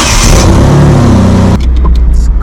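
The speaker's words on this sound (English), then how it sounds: "This car turns on so nicely." A Mitsubishi 3000GT engine runs loud and close with a rising rev, then drops to a steadier, quieter idle rumble.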